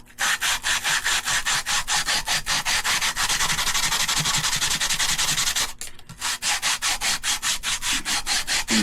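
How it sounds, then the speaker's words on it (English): A carburetor part from a roughly 100-year-old carburetor is rubbed back and forth on 180 grit emery cloth in steady, rhythmic strokes. The sanding is close and continuous, with a brief pause near the end. "Let the sandpaper do the work."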